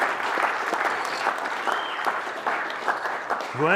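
A live audience at an all-team company update applauds in a sustained, dense round of clapping, fairly loud and steady, with a faint cheer or voice near the end.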